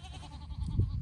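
Goats on a farm after heavy rains flooded the pond area bleat faintly amid steady outdoor background noise, one brief low bleat standing out near the end of the moment.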